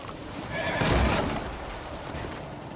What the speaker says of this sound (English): Snorting frantically, the horse hurls toward the stable door and smashes straight through it.